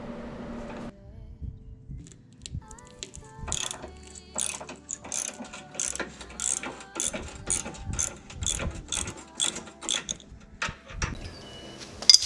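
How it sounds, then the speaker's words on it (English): A ratchet socket wrench loosening a 22mm bolt on a Jeep Grand Cherokee WK2 during a front guard install, heard as rapid repeated clicking bursts of the pawl, close and clear with no talk. "we're going to take out the, I think it's 22mm bolt on the back, and then we're going to take out the closer ones"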